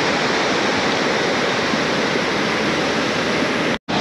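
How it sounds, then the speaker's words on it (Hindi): A mountain river near Shivpuri, Rishikesh, swollen by heavy rain upstream, rushes in a loud, steady, broadband roar that continues without pause. "तो गाइस आप देख सकते हैं कितना हैवी फ्लो हो रहा है अभी भी"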